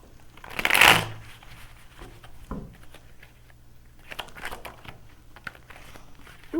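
A deck of tarot cards gets one quick, loud riffle-shuffle at the start, then soft handling rustles and taps follow.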